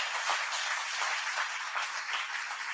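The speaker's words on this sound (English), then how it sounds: "give her a round of applause" Applause fills a hall at a 25th anniversary celebration, honoring a shy woman who greeted guests at the desk; a dense, steady wash of many hands clapping continues throughout.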